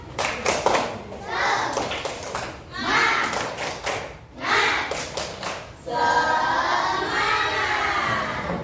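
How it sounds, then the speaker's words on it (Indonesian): A class of young children in grade 4B perform a rhythmic spirit clap together, bursts of clapping alternating with group chanting, ending in sustained loud crowd noise from the room. "Tepuk semangat."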